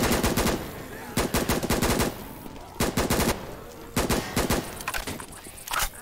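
Machine gun fire in the Left 4 Dead 2 video game comes as repeated rapid bursts of shots, loud and close, separated by short gaps.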